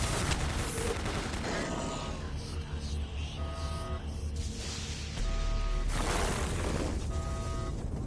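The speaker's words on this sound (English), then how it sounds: "Warning. Automated turret guns online." Automated turret guns fire in Doom 3 with sustained rattling bursts over a continuous mechanical roar, fairly loud and dense, easing briefly before swelling again amid game tones.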